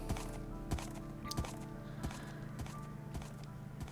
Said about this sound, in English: You can hear the donkey jumping in the background.